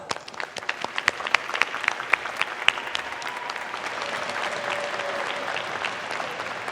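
A graduation diploma and awards ceremony audience breaks into applause, sharp individual claps at first that quickly build into a dense, loud, sustained ovation filling the room.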